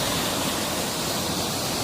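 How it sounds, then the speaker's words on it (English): A river rushes steadily past an eroding bank, filling the whole moment with loud, dense, even broadband water noise and no other sounds standing out. "The river's not real bad right here,"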